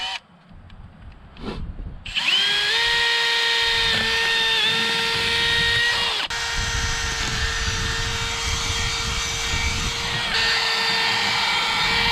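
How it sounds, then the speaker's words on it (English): A power drill bores holes into the side of a tire: brief knocks and handling noise, then a loud, steady, high-pitched whine that runs continuously for about ten seconds, close up and without talk. "So I need to get some holes drilled in the side of the tire."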